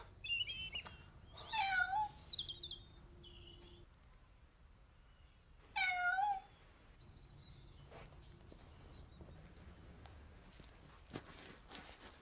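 A white cat meows indoors in two short, faint bursts a few seconds apart, separated by quiet background hiss.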